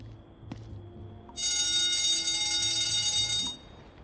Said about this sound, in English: Shouldn't you do something about that alarm?